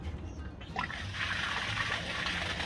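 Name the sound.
water splashing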